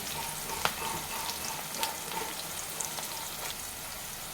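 Sliced onions for a chicken curry fry in a pan, a steady close sizzle with a few light clinks and scrapes and no voice.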